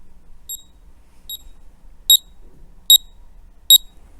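A UGREEN Bluetooth smart finder for Apple Find My chirps five short high-pitched beeps at even intervals, the last three louder, over a faint background hum.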